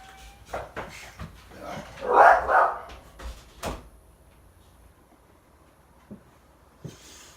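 A dog barking indoors, with a few sharp barks and a short yelping burst near the middle, fairly close, followed by quiet with faint knocks.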